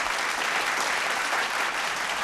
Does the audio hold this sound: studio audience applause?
yes